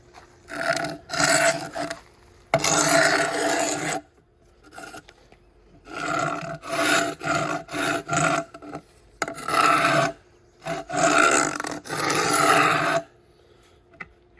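Stone firepit coping is cut on site in repeated bursts of loud, harsh rasping grinding, each lasting a second or two and separated by short silences, with about five main passes across the stretch.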